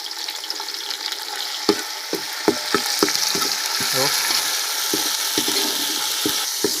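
Masala fries in a pan for prawn biryani with a steady sizzle, broken by a series of close, sharp scraping strokes and knocks of a spoon against the pot.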